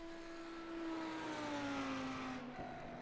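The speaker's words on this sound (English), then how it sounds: "You've got to love the sound of an Audi R8, haven't you?" Audi R8 with its 5.2-litre V10 engine in the iRacing video game, a steady droning engine note sweeping gradually downward in pitch, sustained and even throughout with no talk over it.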